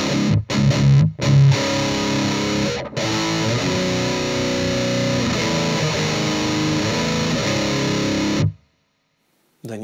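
Heavily distorted electric guitar played through an AMT Incinerator NG-1 noise gate, with loud choppy chords that cut off abruptly to near silence, then a long sustained crunchy chord that is gated off sharply at the end.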